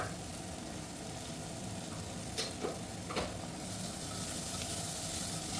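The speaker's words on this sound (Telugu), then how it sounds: "అదే నూనెలో మనం కట్ చేసి పెట్టుకున్నటువంటి ఒక 4 ఆనియన్స్, కరివేపాకు, 2-3 గ్రీన్ చిల్లీ అనమాట. అవి కూడా మనం వేసి బాగా ఫ్రై చేద్దాం" Onions, curry leaves and green chillies frying in oil for an egg curry, a steady close sizzle with a few brief clinks of a utensil against the pan midway.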